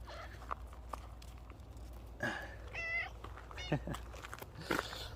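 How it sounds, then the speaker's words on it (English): A gray cat indoors gives a couple of short, quiet meows in the middle of a soft, otherwise calm scene. "She is a gray cat."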